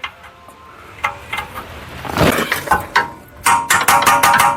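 A socket wrench ratchets on an M14 bolt at the rear wheel bearing of a 2010 VW CC. Scattered clicks grow into fast, loud bursts of ratcheting near the end, close by with no talking.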